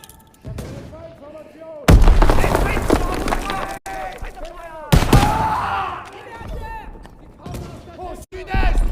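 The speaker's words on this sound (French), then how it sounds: "Je lance une grenade." Gunfire and a grenade blast in the World War II shooter Call of Duty WW2: sharp loud bangs and bursts of shots, with heavy booming impacts punctuating the action and voices talking throughout.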